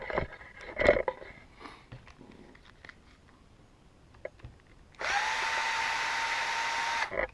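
A power drill backing a screw out of a plastic bumper mount on an RC car. Faint handling clicks come first, then one loud, steady whine that runs for about two seconds close up.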